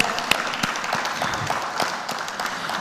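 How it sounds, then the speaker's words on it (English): Conference audience applauding at a tech event in Africa, with scattered individual claps standing out over a continuous bed of clapping that runs steadily and fairly close throughout. "A warm round of applause."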